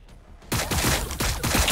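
A sudden fusillade of close gunfire erupts in Warhammer 40,000: Battlesector, with repeated sharp cracks falling in quick succession after a quiet start.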